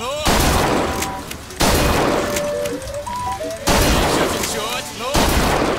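Gunfire in the video game Bioshock Infinite: loud, sharp broadband shots in several bursts, with game music and effects running underneath throughout.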